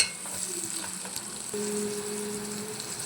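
Carrot pieces stirred into a frying vegetable curry in a pan, a close continuous sizzle with soft stirring scrapes and a faint tonal hum joining partway through, no voices.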